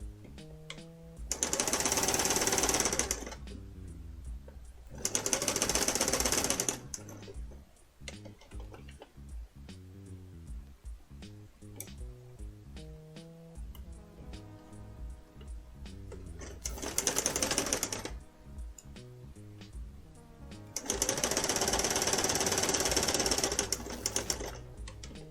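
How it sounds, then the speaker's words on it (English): A sewing machine stitches in four loud bursts of rapid mechanical rattling, with quieter pauses between runs as fabric is guided around corners, no talking. "So when you're using a sewing machine, you want to be careful going around corners."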